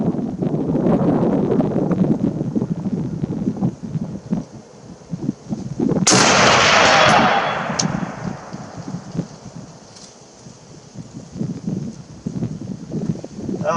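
A single M21 rifle shot cracks outdoors midway through, sharp and loud with a trailing rumble over about two seconds, set against steady wind buffeting the microphone.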